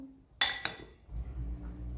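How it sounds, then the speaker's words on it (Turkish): A couple of sharp clinks of a utensil against a large bowl, followed by soft, low stirring and scraping of a filling for savory pastries nearby. "Şimdi güzelce karıştırıyorum."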